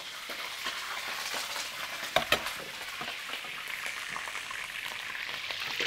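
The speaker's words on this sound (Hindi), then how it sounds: "पहले हम चिकन फ्राई कर लेते हैं क्योंकि ऑयल काफ़ी गर्म है" Chicken frying in very hot oil, a steady broadband sizzle and crackle that continues throughout, with a couple of sharper spatters near the middle.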